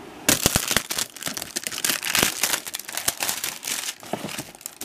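Plastic packaging around a brick of pre-painted Icons of the Realm D&D Monsters Menagerie 2 plastic figures crinkles and crackles in loud, close, irregular bursts, with sharp snaps and rustles and no speech.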